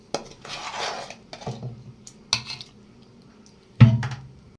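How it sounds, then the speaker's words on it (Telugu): Cooked tomato and brinjal for a village-style chutney tip into a mixer jar with sharp clinks of a spoon against steel, scattered knocks and scrapes, and a louder clatter near the end. "ఇప్పుడు ఇవన్నీ మిక్సీ గిన్నెలో వేసుకుంటున్నాను"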